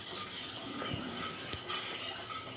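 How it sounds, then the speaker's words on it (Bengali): Black cumin seeds heating in a pan as they are stirred, a soft steady sizzle with a couple of faint scraping clinks from the utensil. "এবার আমি একটু নেড়ে নেব।"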